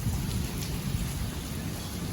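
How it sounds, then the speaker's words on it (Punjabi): Rain and hail fall steadily in sunshine onto a courtyard, producing a dense, continuous patter and hiss with water running off nearby. "ਧੁੱਪ ਧੁੱਪ ਦੇ ਵਿੱਚ ਹੀ ਮੀਂਹ ਤੇ ਗੜੇ ਪਈ ਜਾਂਦੇ ਆ"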